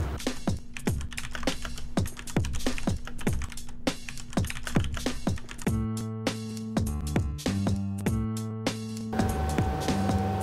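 Fingers type on a computer keyboard in a quick, irregular patter of sharp key clicks, close and dry, with a few heavier keystrokes later on and no voices.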